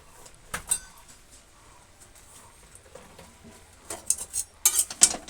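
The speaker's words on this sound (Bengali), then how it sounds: "অল্প নেড়ে চেড়ে দেব।" Kochu shak with hilsa head and green chillies gets stirred in a pan, quiet scattered scrapes and clinks of a utensil against metal, growing busier and louder toward the end, with no talking.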